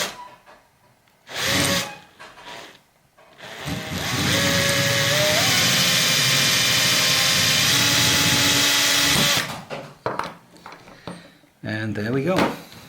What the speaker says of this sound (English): I got this nice little saw here.